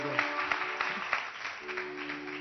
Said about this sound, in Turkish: bir cesaret alkışı o zaman